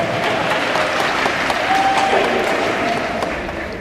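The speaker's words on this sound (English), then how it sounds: "Applaud." Convention panel audience breaking into sustained applause, a dense, steady wash of clapping from a large crowd with a few faint whoops mixed in, continuous for several seconds.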